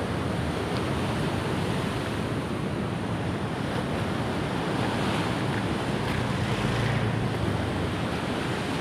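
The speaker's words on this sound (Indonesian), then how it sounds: "Ombak yang besar." Large ocean waves crash and surge continuously along the shore near Kota Karang, a dense, steady roar of surf blended with wind noise buffeting the microphone, with no voices.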